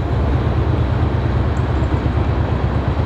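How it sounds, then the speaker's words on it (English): A steady, loud low rumble with a rhythmic clatter runs throughout as a train rolls past nearby an RV resort. "There's another train coming."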